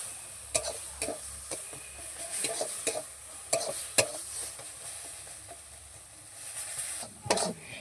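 Tomato and green chilli cooking in a pan, a quiet sizzle with repeated scraping and tapping of a spoon as the mixture is stirred, moderately close, no speech.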